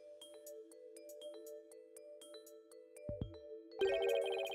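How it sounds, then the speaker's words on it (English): Ace Attorney video game footsteps made of bell chimes, light repeated ringing tones over a steady sustained tone, then a brighter, busier burst of sound near the end. "The sound of bells changed to sound of water at one point."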